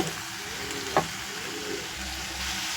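Prawns sizzle steadily in hot oil in a pan while being stirred, a close, continuous frying hiss with a few soft scraping strokes and no talking.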